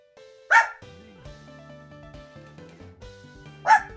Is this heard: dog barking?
yes